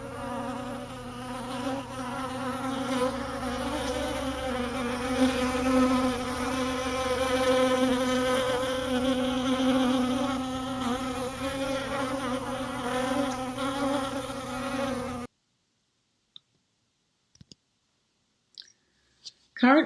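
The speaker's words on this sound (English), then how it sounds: "In this video, you can see that the bees are drinking, grooming, socializing." Honeybees buzzing near a healthy hive where they drink and groom, a steady close drone with layered wingbeat hum that runs continuously, then cuts off abruptly to near silence with a few faint clicks.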